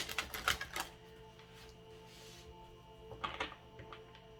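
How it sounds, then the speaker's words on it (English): Crisp flurries of card riffling and snapping in two quick bursts, separated by quiet, close and fairly soft. "So last shuffle here of the deck."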